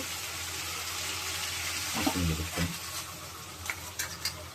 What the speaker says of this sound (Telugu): ఈ వేసుకున్న పసుపుని ఇట్లా కలిపేసేసి మళ్ళీ ఒక 20 minutes వేగాలి